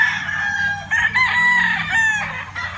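White Kelso gamefowl rooster crowing in a breeding pen on a gamefowl farm, with long harmonic calls that rise and fall across the clip, close and loud, repeated a few times with other birds faintly behind.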